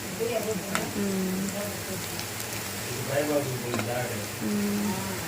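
Masala frying in oil in a home kitchen pan, a steady crackling sizzle with intermittent stirring scrapes, close and moderately loud, with voices talking over it.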